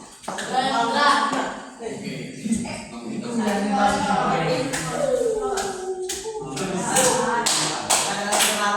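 A school class chants and claps in a rhythmic clapping game, sharp hand claps landing in regular bursts under children's and a teacher's voices in a classroom.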